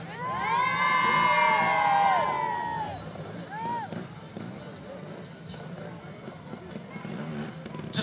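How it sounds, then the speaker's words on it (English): Crowd at a motorcycle trial-bike stunt show cheering and shrieking, with high children's voices swelling early then settling into a busy murmur, under an announcer's voice. "Let's see you cheer."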